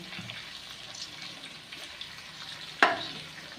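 Cooking oil warming in a pan for making pickle gives a faint, steady low sizzle and bubbling, with a sharp clink of a utensil near the end.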